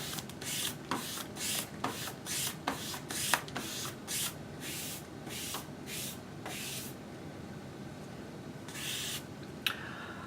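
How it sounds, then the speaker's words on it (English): A squeegee pressed firmly over vinyl wrap film laid on knifeless tape on a vehicle, heard as a close series of quick rubbing, hissing strokes that come fast at first and then thin out to a few spaced swipes. "We're now going to lay our film over the tape. And we're going to squeegee that down."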